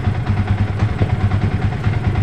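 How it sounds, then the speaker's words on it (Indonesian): Yamaha Vixion motorcycle engine with a fault that makes it stall when throttled, running with a steady low, rough idle-like throb close by, with no clear rev burst and no talk. "Digas dikit langsung mati dia tuh. Ini hidup tapi nggak bisa digas teman-teman."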